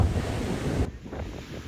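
Sea waves crash against rocks on a beach at Durdle Door, a loud rushing surge buffeted by heavy wind noise on the microphone that drops away abruptly partway through, leaving a softer wash of water.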